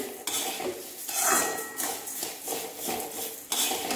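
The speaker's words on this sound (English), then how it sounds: "Make sure that you keep on stirring it, because otherwise it might get burnt." A spoon scrapes and clinks against a pan while spices are stirred in hot oil over a high flame for sambar powder, close metallic stirring strokes over a low sizzle, with no talk.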